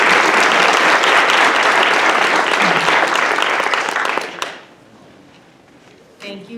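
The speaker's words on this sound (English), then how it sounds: "it would be nice to give a round of applause to the generous donors who made a lot of these possible" A university English department convocation audience gives a sustained, loud round of applause that fades out near the end, followed by a brief voice.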